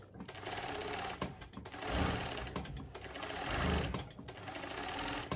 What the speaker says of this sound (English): This is my industrial sew machine, my newest toy, still getting used to it.